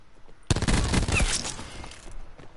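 A sudden burst of rapid gunfire, dense overlapping shots fired in quick succession, loud and close, then decaying into a reverberant tail.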